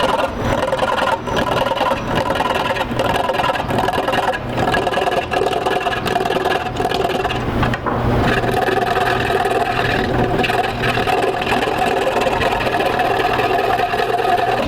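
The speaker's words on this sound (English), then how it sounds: "I'm just going to finish rounding off this part down on the bottom here" A wood lathe turns a porch post, rounding off the bottom section. It gives a steady, loud mechanical whir with a constant hum throughout and brief scraping changes as the tool cuts.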